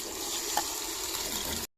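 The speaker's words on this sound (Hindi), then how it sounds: "इसमें मैंने थोड़ा सा पानी लगाया" Water runs into a cooking pot holding tomatoes in a village kitchen, a steady soft gush with a brief splash partway through before it cuts off abruptly near the end; fairly faint and alone, no talking.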